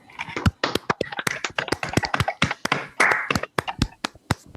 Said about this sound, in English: I do want to invite everyone to join me in a round of applause for Heather on 3.